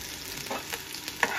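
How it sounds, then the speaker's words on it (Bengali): Onion and green chili frying in a pan, a soft steady sizzle with faint stirring scrapes and one small clink near the end. "পেঁয়াজ আর মরিচটা আমি ডালে দিলাম, কাঁচা মরিচটা ভাজা করবো"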